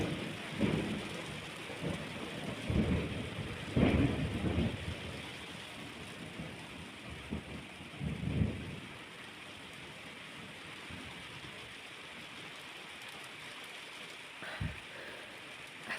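Heavy rain hisses steadily while low rumbles of thunder swell and fade several times in the first half, then the downpour continues as a softer even wash, heard at moderate distance without voices.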